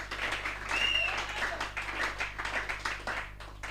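A church congregation applauds the Lord during a sermon, a sustained wash of clapping from many hands that swells slightly and then holds steady, fairly close, with no one speaking.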